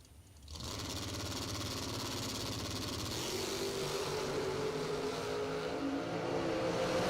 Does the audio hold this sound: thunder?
no